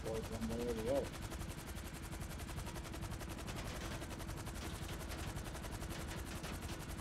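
Steady, fast automatic gunfire rattles on continuously at moderate level in GTA V, with a brief voice-like tone near the start.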